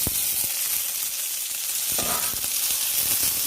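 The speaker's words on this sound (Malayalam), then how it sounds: "നമ്മുടെ തക്കാളി ഒരു 2 മിനിറ്റ് ഒന്ന് വഴറ്റിയെടുക്കണം." Tomatoes sautéing in a pan for onion sambar make a dense, even sizzle with a few faint stirring knocks, close and alone without talk.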